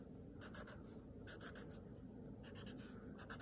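Marker tip dabbing short sprinkle strokes onto paper, faint quick squeaky scratches in small bursts, close and quiet, with no talking.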